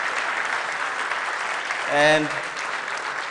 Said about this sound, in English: I want you to just give yourselves a round of applause